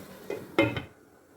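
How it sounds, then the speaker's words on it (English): A lid is set over a pot of carrots and fish pie filling, with a couple of quick close metallic clinks, the second louder, over a faint background hum. "And we'll cover the pot and cook it for a minute."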